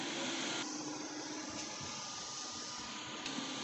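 A 12,000 BTU air conditioner runs in a house powered by a solar inverter, a steady loud broadband whoosh with a constant hum that persists through the whole stretch.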